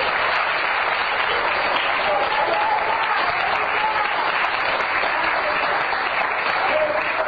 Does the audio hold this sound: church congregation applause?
yes